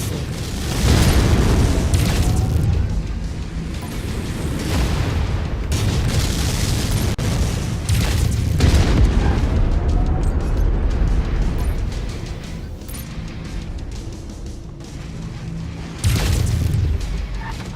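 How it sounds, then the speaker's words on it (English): Missile strikes in a combat video game burst as a string of loud, heavy booms across the stretch, with rumbling impacts and debris noise filling the mix and a louder blast near the end. "Incoming missile. Incoming missile."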